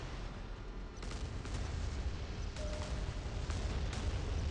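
A torpedo attack on a warship in the Modern Warships naval combat game brings a rumbling wash of muffled booms and impacts, with several sharp hits standing out over the constant low roar.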